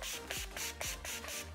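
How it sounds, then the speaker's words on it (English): Several short bursts of Urban Decay All Nighter makeup setting spray, each a quick airy hiss from a pump mister, repeated in a loose rhythm at close range with no talking. "I'm gonna use Urban Decay All Nighter setting spray."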